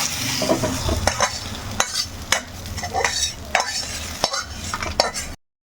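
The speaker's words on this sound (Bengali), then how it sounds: "এখন এটাকে একটা পাত্রের মধ্যে ঢেলে দিচ্ছি" Fried spices for a chicken curry scraped and tipped from a pan into a bowl, heard as repeated metallic scrapes and clinks with a light dry rustle, close and fairly loud, ending abruptly, with no talking.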